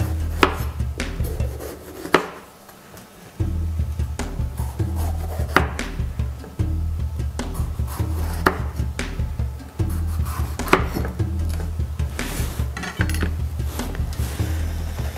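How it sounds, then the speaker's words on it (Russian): Knife chopping bell pepper on a wooden board, irregular sharp taps and scrapes at close range, continuing with a brief pause early on. "нарезаем перец."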